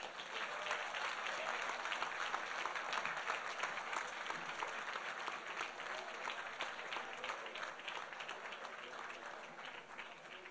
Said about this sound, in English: Please, let's give him another round of applause for a job well done